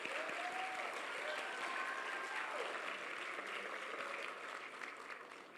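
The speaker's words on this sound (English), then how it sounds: "Can we give a round of applause to our parents, please?" A crowd at a graduation ceremony applauds steadily, a dense wash of clapping that holds for several seconds and eases off slightly at the end.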